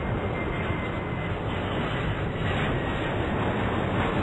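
Airliner engines roar steadily on takeoff in the airport game Airport Madness 4, a continuous broad jet rumble holding at even loudness throughout with no talk over it.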